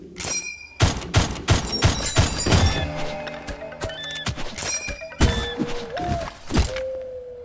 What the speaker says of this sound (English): I pull out the gun.